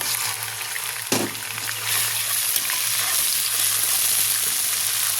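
Onions sizzle in hot oil with a bright, steady crackle, a brief clatter early on, then the frying continues evenly.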